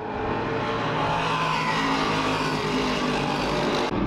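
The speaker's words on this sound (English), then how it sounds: "Billy Coyle running a picture-perfect corner" Race cars cornering hard on a racetrack during a televised race, a dense, loud, continuous engine roar with tire noise, several cars close together and steady throughout with no pause.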